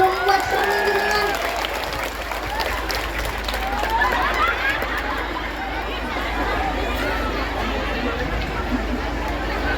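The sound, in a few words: audience applause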